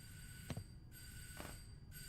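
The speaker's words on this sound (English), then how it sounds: "Is someone ringing my bell?" A doorbell in the game Detroit: Become Human rings twice in short bright bursts, spaced about a second apart over a quiet indoor hum.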